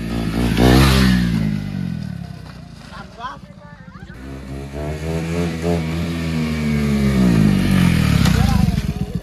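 A KTM Duke motorcycle accelerates hard while overtaking, its engine note rising and falling through several loud, sweeping revs close by, with brief dips between gear changes.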